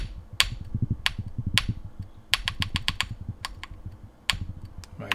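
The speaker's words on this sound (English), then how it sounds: "My backspace is sticking." Keychron Q1 Pro mechanical keyboard with a sticking backspace key, pressed repeatedly: sharp, close clacks in irregular bursts, some in quick runs, over faint low handling noise.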